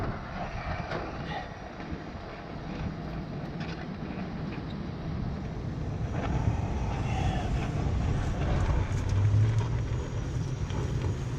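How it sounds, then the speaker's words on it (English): Strong, dusty wind blowing outdoors, a steady low roaring rush that buffets the microphone throughout and swells a little in the second half, with no talk over it. "Windy, dusty."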